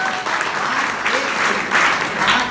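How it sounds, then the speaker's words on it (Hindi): Students in a college classroom debate applaud together, a close, loud burst of clapping that carries on steadily for a couple of seconds with faint voices underneath. "ताली हो जाए।"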